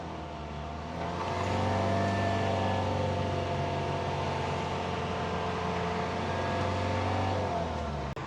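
Car engine held at raised revs with a turbo hose that is underinflating, a steady loud hum with layered tonal drone building after the first second, sustained evenly and close, then cutting off abruptly at the end.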